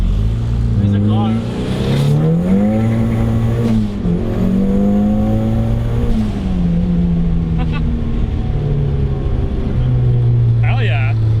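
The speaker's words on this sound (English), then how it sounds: "There's a car." A car engine drones steadily throughout, its pitch rising and falling as it accelerates, heard from inside the vehicle with people talking over it.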